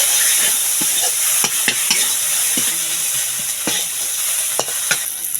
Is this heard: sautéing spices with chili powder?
yes